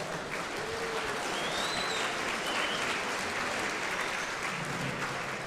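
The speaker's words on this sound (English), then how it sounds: "how about a final round of applause for our mini stock division" Crowd applause for the mini stock division at Ohsweken Speedway's Night of Champions, a dense, sustained wash of many hands clapping at an even level throughout.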